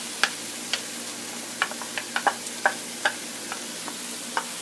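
Frozen corn and curry powder cooking in a pan, a soft sizzle under irregular sharp clicks and taps of a spatula against the pan, close and without talk.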